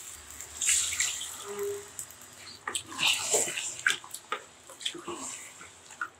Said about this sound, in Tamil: ஜார் கழுவில் தண்ணி சேர்த்து விட்டுடலாம்